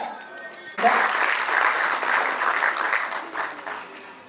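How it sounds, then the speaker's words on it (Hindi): A brief sound opens the clip, then an audience breaks into loud, sustained applause that gradually tapers off, welcoming a doctor speaker at a cancer-awareness event. "तो तालियों के साथ डॉक्टर कुंदन जी को मैं आमंत्रित कर रही हूँ"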